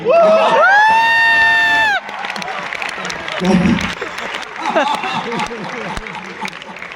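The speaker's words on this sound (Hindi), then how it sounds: "तालियां अभी भी कमजोर है, मेरे मतलब की तालियां अभी आई नहीं।" A Hindi kavi sammelan poetry audience responds with cheering, whistles and scattered clapping, opening with a loud rising whistle-like tone before settling into lively crowd noise and voices.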